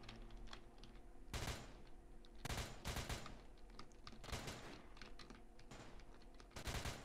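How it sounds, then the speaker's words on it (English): Rapid bursts of gunfire from the Roblox game ERLC, clustered in several loud volleys of automatic shots separated by a steady background hum of game ambience and faint clicking. "I swear half of those shots hit them, just didn't register."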